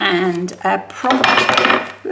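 A small bowl of craft bits gets knocked about on a table, giving a few quick clattering, clinking knocks up close, with a brief spoken voice over it.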